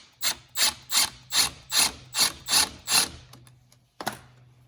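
A 1/4 inch ratchet tightening a hose clamp on a transmission cooler line of a Toyota 4Runner, eight loud, close, evenly spaced clicking pulls followed by a pause and one final short burst.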